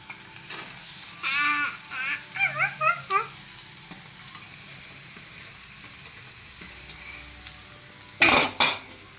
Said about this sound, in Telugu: స్టవ్ ఆన్ చేసి దీన్ని ఫ్రై చేయాలి